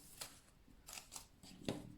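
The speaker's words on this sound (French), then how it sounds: "on va ajuster donc chaque coin, chaque angle avec les ciseaux" Several quick, close scissor snips cutting paper for a Christmas star in a short burst, crisp and dry with brief pauses between cuts in a quiet room.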